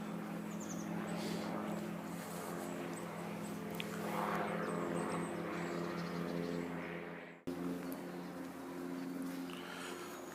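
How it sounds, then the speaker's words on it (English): A distant aircraft drones overhead above woodland, a steady humming engine tone lasting throughout with a brief dropout near the end; no clear rotor chop of a helicopter is evident. "Lots of helicopters and gliders around today as well."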